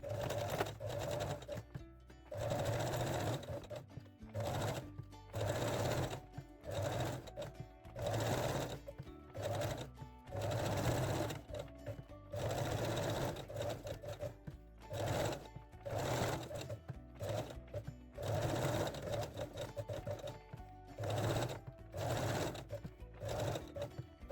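A sewing machine stitches jersey and lace panties in repeated bursts of rapid mechanical whirring, each run stopping briefly before starting again, close and alone.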